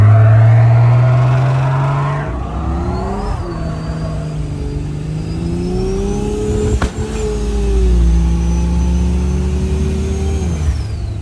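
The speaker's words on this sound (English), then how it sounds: "do a nice toasty burnout." A turbocharged 2JZ-swapped Jeep Cherokee XJ does a burnout with its front tires locked and rears spinning, its engine roaring loud and close, revving up and holding a high whining drone for several seconds, with no talking.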